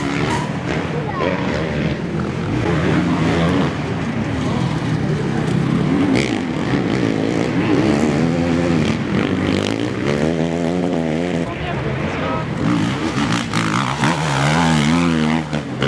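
Kawasaki and other motocross bikes race past at the 2016 Belgian Championship round in Orp-le-Grand: loud, continuous, wavering engine roar with rising and falling revs, and a voice talking over it.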